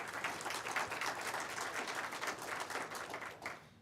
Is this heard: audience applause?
yes